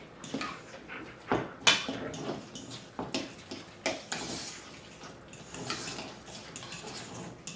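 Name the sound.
mixing guacamole ingredients with a fork in a bowl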